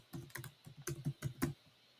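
Someone types a single word on a computer keyboard: a quick run of about ten crisp, close key clicks in uneven rhythm, then a pause, with no voices.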